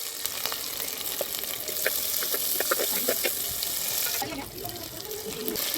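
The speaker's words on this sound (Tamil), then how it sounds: "சின்ன வெங்காயம் 100 கிராம் எடுத்துருக்கோம். அதையும் போட்டுக்கலாம். இதெல்லாம் நல்லா வதக்கிடுங்க." Small and large onions sizzle as they sauté in a pan for pepper chicken, a steady close frying hiss with light scraping clicks and a brief stir near the end.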